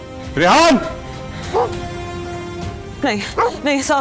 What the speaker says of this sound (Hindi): ये कुत्ते इतना क्यों भौंक रहे हैं?